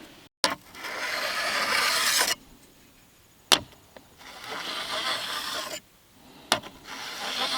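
A file scrapes a burr off the edge of a chainsaw bar in three long, even strokes, each ending with a sharp click as the file lifts, close and alone.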